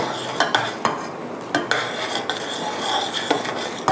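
Spoon stirring cornstarch into a corn pie filling in a pot, with light repeated scraping and clinking strokes at an uneven rhythm, close and moderately quiet, no talking.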